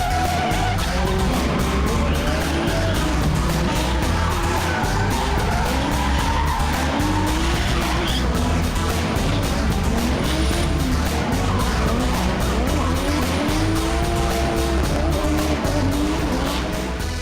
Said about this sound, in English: What I love about drifting is just the mere fact that you can go sideways but actually go straight.